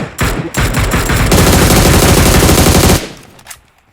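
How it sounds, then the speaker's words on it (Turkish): Dense, sustained automatic gunfire from many players in a tactical shooter video game, loud and continuous bursts layered over each other for about three seconds before cutting off, with a lone faint shot after. "10 kişi bir yerden sıkıyor."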